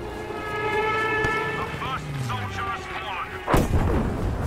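Bomber explosions in Battlefield V multiplayer: a deep boom bursts out near the end over a constant background din of engines and combat noise, with no voices heard.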